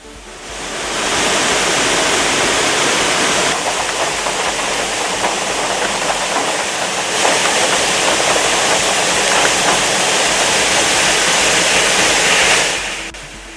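Waterfalls in the hill areas of Kallatti, Naduvattam and Oosiparai run swollen after heavy rain, a loud, steady gushing roar that holds for about twelve seconds before cutting off.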